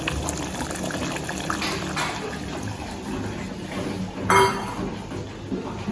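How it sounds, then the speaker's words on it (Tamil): A pot of pirandai kuzhambu at a steady simmering boil, giving a continuous soft bubbling with a brief louder gurgle near the end. "இப்போ குழம்பு நல்லா கொதிச்சிருச்சு."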